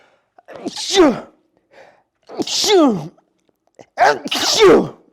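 Three sharp sneezes, close and loud, each with a quick inhaled buildup before the burst, spaced roughly a second and a half apart.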